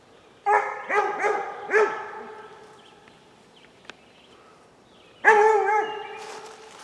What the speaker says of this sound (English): You just walk over there and start barking at something